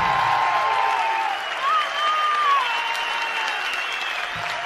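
Sustained, dense applause from a live concert audience at Sala Zitarrosa in 2007, steady and loud for several seconds with a brief dip midway and a few whistle-like tones above it.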